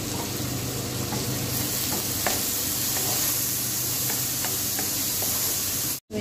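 Potato and cauliflower bhaji sizzles loudly and steadily in a pan while it is stirred, with light scraping ticks spread through. The sound cuts off abruptly near the end, and no one speaks.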